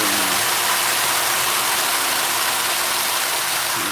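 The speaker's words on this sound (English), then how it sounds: "Turn the cleaner on." A pool cleaner runs with a loud, steady broadband rush of water and motor noise that holds evenly from start to finish, with no voices.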